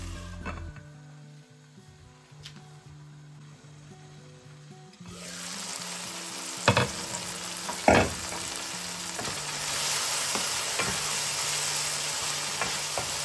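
Sundakkai (turkey berry) fry stirred in a pan after turmeric goes in: steady close sizzling with scraping spatula strokes and a couple of sharper knocks, quieter at first, then louder hissing frying once the stirring picks up.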